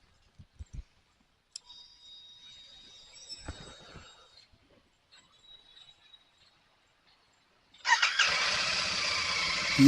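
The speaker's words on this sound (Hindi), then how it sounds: "ये स्टार्ट हो चुकी है अपनी बाइक।" A Royal Enfield Super Meteor 650 motorcycle engine whines with a starter squeal, then catches and settles into a loud, steady running roar after several seconds of near silence with faint clicks.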